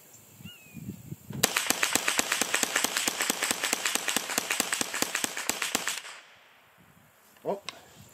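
A Ruger 10/22 rifle fires a magazine in rapid succession, roughly two dozen sharp, loud cracks in a quick even rhythm, followed by a brief quieter rattle.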